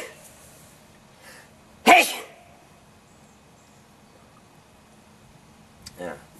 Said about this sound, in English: If you hear my sneezes echoing, no big deal, they always do.